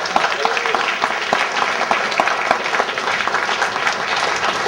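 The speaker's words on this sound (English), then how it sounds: "So please round of applause" Wedding guests applaud after a best man's toast, a loud sustained burst of many hands clapping together in a room, steady and dense for several seconds.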